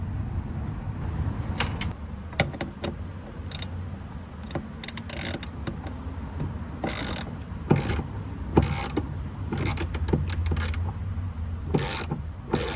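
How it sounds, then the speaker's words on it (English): A ratchet backs off T27 Torx screws on a 2023 VW Jetta Trendline side mirror, giving quiet clicking bursts and short mechanical ticks at close range with brief pauses between them. "These are T27 Torx screws, so we'll just back these off"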